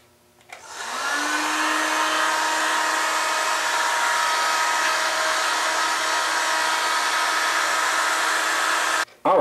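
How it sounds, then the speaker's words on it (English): Heat gun drying plastisol screen printing ink, switching on and blowing with a steady, loud, close whooshing whine and a faint tonal hum for several seconds before cutting off abruptly. "So I'm gonna do a little heat gun and dry it to the touch"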